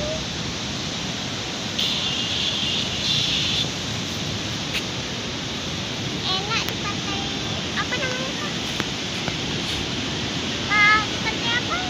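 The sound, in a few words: big ocean waves at beach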